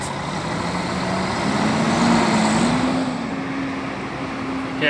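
Interstate bus from Real Sul Turismo, vehicle 1407 on the Brasília to Paracatu route, idling and then revving at the Brasília bus terminal, a steady diesel rumble with a slowly rising engine tone amid station ambience.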